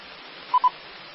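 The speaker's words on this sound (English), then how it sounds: "my phone's going off now" Two quick identical electronic beeps from a phone alert sound close together over a faint hiss of radio static, short and clear with no voices.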